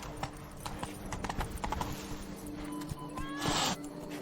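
Horse hooves clip-clopping in a steady rhythm in The Witcher 3 video game, close and fairly loud over a soft, sustained musical score.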